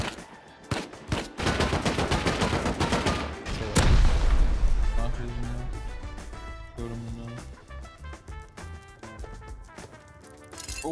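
Bursts of rapid gunfire in the survival video game Rust, loud close shots and automatic volleys that crack sharply and then give way to a heavy boom and ringing musical tones.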